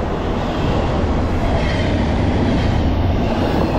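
A long freight train rolls past on the CSX/Lehigh line on a winter morning, a loud, close, continuous rumble and roar of wheels and cars with no voices.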